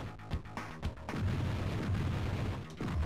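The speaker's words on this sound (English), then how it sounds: "When Terminator shoots people," Gunfire from the Terminator 2: Judgement Day game on a Sega Genesis: a few sharp shots at the start, then a sustained rumbling barrage of booming fire that drops off briefly near the end.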